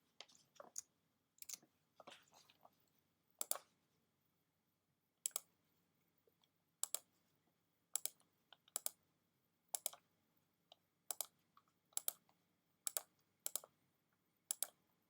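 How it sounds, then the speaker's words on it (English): Computer mouse clicking point by point while drawing a tree shape in Adobe Illustrator: sharp, isolated clicks at an irregular but steady pace, close and fairly quiet against a faint background hum. "clicking point by point allows me to draw out a tree"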